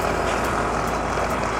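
A large vehicle rumbles past on a rough, potholed road while riding on two wheels, a loud continuous roar of engine and wind noise close by, with no break in the sound.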